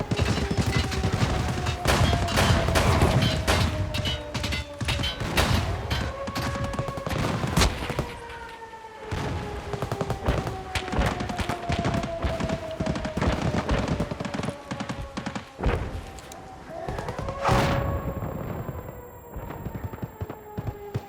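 Mortar rounds explode again and again in Escape From Tarkov, loud booms and sharp blasts landing in quick irregular succession for a sustained barrage, with the impacts ringing out near and at a distance.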